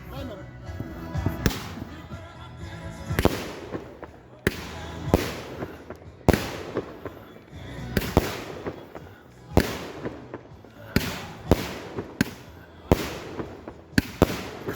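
A Spiderman Black 66-shot fireworks cake fires a long series of loud, sharp bursts at uneven intervals, each followed by crackling decay, with a voice talking faintly between shots.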